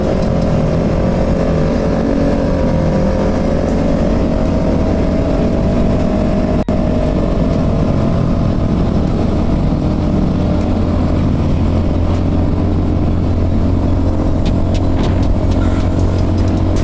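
Motorcycle engine droning steadily on a busy night ride, with a continuous loud hum and road noise throughout and no clear sharp revs.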